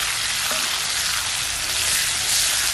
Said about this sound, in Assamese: আৰু পিঁয়াজখিনি ৰঙচুৱা হ'লেই ভাজিছোঁ